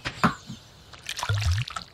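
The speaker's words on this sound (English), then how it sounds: "I gotta refill that water bucket" Water trickling and sloshing as a bucket is refilled in the farming video game Stardew Valley, a short dribble with a brief splash early on and a fuller pour toward the middle.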